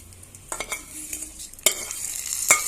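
Whole spices and tempering sizzling in hot ghee while being stirred, with sharp scraping clinks of a spoon against the pan over a steady crackle, close and fairly loud.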